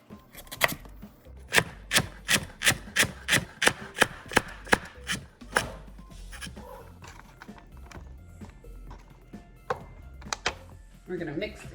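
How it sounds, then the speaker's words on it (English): Knife julienning carrots on a cutting board for kimchi, a fast run of sharp, evenly spaced chops close up, then slower scattered taps and scraping. "I'm going to go julienne these carrots so I can add them in there too"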